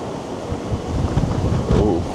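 Wind gusts roar steadily across an open outdoor viewpoint by a river in New York City on a cold day, a broad, continuous buffeting rush with slight surges, loud and close with no talking.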